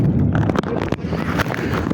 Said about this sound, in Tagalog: Ay, para akong tinutulak ng hangin.